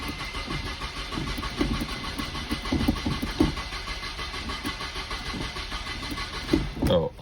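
An eBay barn-find Nissan 240SX engine, fed from an external fuel tank, cranks steadily on its first start attempt, a continuous mid-range churning with uneven pulses that never clearly catches, ending in a brief louder burst.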